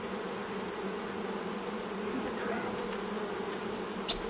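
Bees buzzing around an old beehive that was opened after more than 30 years, a steady, even drone with a faint background hum and a couple of brief clicks.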